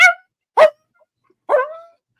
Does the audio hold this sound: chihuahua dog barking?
yes